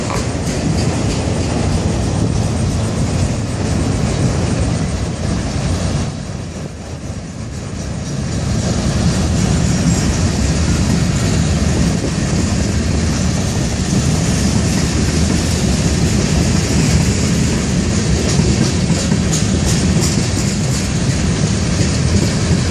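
A Florida East Coast (FEC) freight train rolls steadily past close by, a loud continuous rumble and wheel clatter for the whole stretch with only a brief dip partway, no voices over it.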